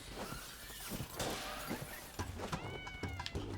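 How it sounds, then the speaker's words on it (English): A falling enemy in the video game Ape Out lets out a meow-like cry amid glass shattering and crashing game effects, the cat-like wail rising briefly over busy, clattering action. "That was a man making a cat sound as he fell to his..."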